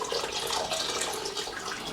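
Sparge water, 10 liters of reverse-osmosis water, pouring steadily into the mash of a home-brewed Christmas imperial stout, a continuous bright splashing stream heard up close and fairly quiet, with no talk.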